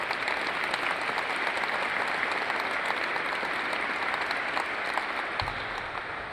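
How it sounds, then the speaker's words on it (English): Sustained applause from a large crowd at an Air Force base change of command ceremony, dense even clapping at steady volume throughout, with no voices over it. "Let's give that team a round of applause as well."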